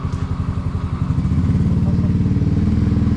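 A motorcycle engine idles with a rapid, even thumping pulse close by, then revs slightly louder and holds steady.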